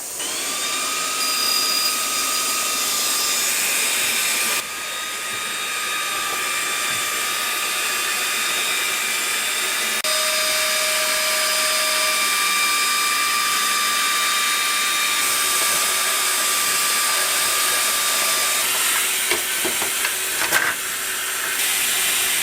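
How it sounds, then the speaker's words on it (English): An xTool laser cutter powered from an EcoFlow unit runs with a steady broadband hiss and whir, with sustained tonal whines and brief pitch shifts, ending in a few short clicks and bursts, without talk. "I'm going to use a laser cutter. So I've got my xTool plugged into the EcoFlow for this"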